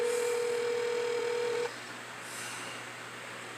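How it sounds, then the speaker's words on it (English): Telephone call-transfer tones on a customer support line: a steady electronic beep holds for about a second and a half, then cuts off, leaving a faint hum with a soft tonal swell. "We will now transfer this call."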